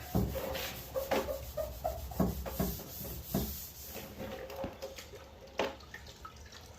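Hand scrubbing of old paint to restore it, a close, uneven rubbing and scouring in short strokes with occasional light knocks and wet dripping sounds.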